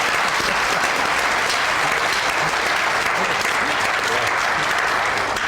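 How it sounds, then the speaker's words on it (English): Studio audience applause on an Irish television interview show, a loud continuous wash of clapping from a crowd, steady and close throughout. "A round of applause."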